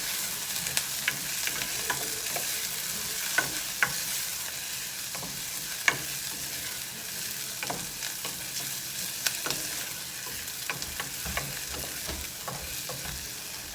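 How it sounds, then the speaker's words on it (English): Food sizzles steadily in hot oil over a charcoal barbecue pit with an open flame. A dense, continuous frying hiss runs throughout, broken by sharp pops and spatters, with no talking. "I'm gonna add a little more oil to that. Fry it all up."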